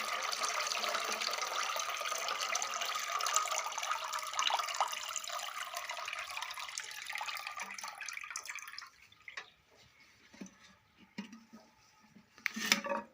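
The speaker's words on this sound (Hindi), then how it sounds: "ये 3 लीटर पानी और वो डिकम्पोज़ किया हुआ छिलके वाला पानी आप लोग इसको मिक्स कर दें" Three litres of plain water and water from decomposed watermelon peels are poured and mixed together in a bucket, a steady splashing pour that runs for several seconds, then thins to scattered trickles and drips.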